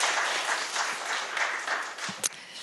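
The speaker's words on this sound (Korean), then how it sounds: "고생하신 세 분께 다시 한번 큰 박수 부탁드립니다." Forum audience giving the panelists a big round of applause, a broad wash of steady clapping that fades slightly toward the end, with a sharp knock near the finish.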